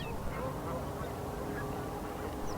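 Geese honk repeatedly at Weed Lake among ducks and herons on an early morning, scattered calls at moderate distance over a constant murmur of waterfowl, with no talk.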